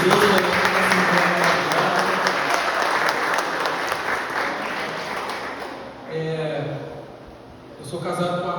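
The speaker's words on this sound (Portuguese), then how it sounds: "Uma salva de palmas ao Senhor Jesus." A church congregation applauds together in a dense, sustained burst of clapping that fades after about six seconds, then someone speaks.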